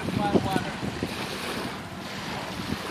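Waves washing onto the beach at Jonas Green State Park, a steady close rush of surf mixed with gusty wind buffeting the microphone, with no voices.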